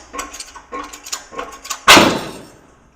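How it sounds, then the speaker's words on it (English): A hydraulic press forcing a bearing off the axle of an International Farmall Super H tractor: a run of creaking, ratcheting clicks builds up, then a sudden loud metallic bang as it lets go, ringing down to quiet. "Goes to show you can never have a big enough hydraulic press."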